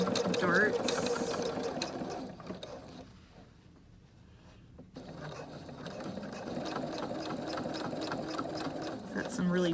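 Sewing machine stitching bulky fabric, fast rhythmic mechanical clatter running close and steady, pausing briefly in the middle before resuming.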